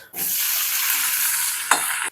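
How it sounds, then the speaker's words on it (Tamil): A loud, steady sizzle of okra frying in hot coconut oil, with a brief stir or clatter near the end. "கொஞ்சம் தேங்காய் எண்ணெயை விட்டு அந்த வெண்டைக்காவை வதக்க போகிறேன்"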